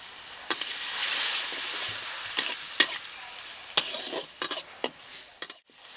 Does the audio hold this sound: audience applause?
no